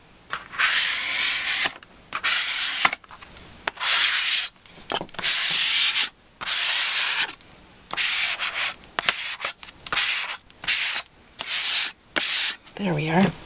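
A scraper is rubbed firmly across paper to flatten it for a handmade mini album, giving close, bursty scratchy strokes in quick repeated passes separated by short pauses.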